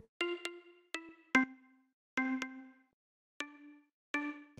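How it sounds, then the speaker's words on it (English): Thin organ notes with the low end filtered away in a futuristic chill house production, sounding as six short, separated stabs in an irregular rhythm, close and clear with brief silences between them. "and then I have this EQ8 cutting out the low end because the organ."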